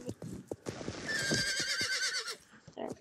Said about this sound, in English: I'll dismount my horse.